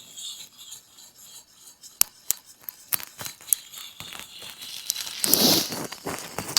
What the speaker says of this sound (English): now we'll go to our final finest razor hone